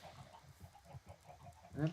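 Minecraft chickens clucking in a short burst of repeated low calls, fairly faint, with a louder cluck at the end and no speech.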